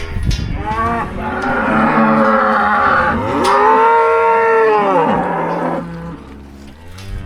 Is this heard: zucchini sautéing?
no